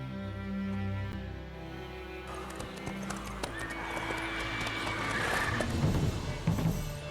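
Roach, a horse in The Witcher 3, gives a whinnying neigh over steady hoof clip-clops, with game ambience and rustling behind.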